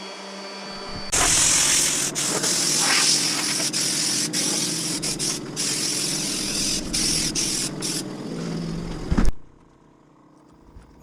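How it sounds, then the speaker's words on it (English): A power sander with 120 grit paper works across a maple butcher block top, making a steady, loud whirring scrape for about eight seconds before it cuts off and winds down. "I'm going to sand over that chamfer with the 120 grit, and also sand the top down 120 grit."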